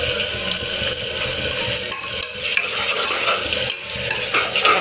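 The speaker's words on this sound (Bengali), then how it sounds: "এটাকে এখন আমি ভালো করে 5-10 মিনিটের মতো কষিয়ে নিব" Spice paste for mutton biryani being stirred and fried in oil, a spoon scraping the pot repeatedly over a continuous loud sizzle, with a few brief dips in the cooking noise.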